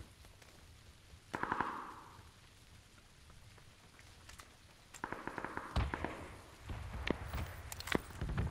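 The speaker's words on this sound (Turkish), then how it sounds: "Abi yağmur sesinden adamı duyamıyorum ki." Rain falling in PUBG, a constant patter of drops on surfaces, broken by sharp bursts of gunfire and footstep-like thuds that grow busier toward the end.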